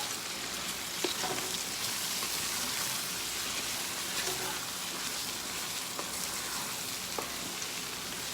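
Chicken thighs and vegetables seasoned with garlic and smoked paprika fry in a pan, giving a steady, dense sizzle and crackle throughout with occasional faint stirring clicks.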